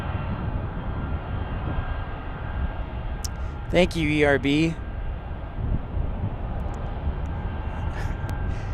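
A Boeing 757 airliner passing with a steady broad engine roar throughout, while a voice speaks briefly over the noise.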